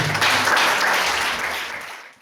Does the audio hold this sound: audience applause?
yes